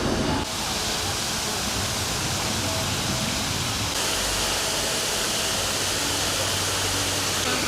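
Steady, loud rush of a waterfall feature at Chi Lin Nunnery in Hong Kong, a broad unbroken roar of falling water heard close up with no other sounds above it.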